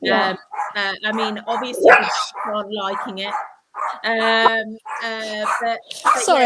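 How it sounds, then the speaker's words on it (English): A dog barks in short bursts in the background while people keep talking over it in a conversation indoors. "That's my dog."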